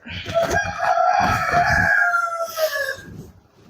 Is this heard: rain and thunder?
no